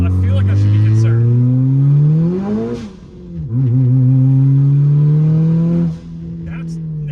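A tuned 425-horsepower Nissan Juke Nismo RS engine revs hard while driving, rising in pitch, dipping briefly, then climbing again into a loud sustained drone heard from inside the car, with torque steer making it wander on the road.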